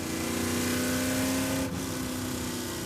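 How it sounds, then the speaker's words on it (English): A loud car on dirt track tires drives the Laguna Seca racetrack, its engine droning steadily in a sustained roar with a brief dip midway, heard without talk. "that car's gonna violate the noise regulations here at Laguna Seca"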